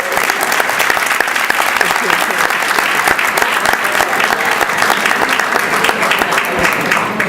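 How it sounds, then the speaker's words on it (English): Banquet audience at a SHPE-NYC engineering society dinner bursts into loud, sustained applause during a keynote speech, dense overlapping claps filling the room for over seven seconds at an even, strong level. "You get an applause if you think that's right."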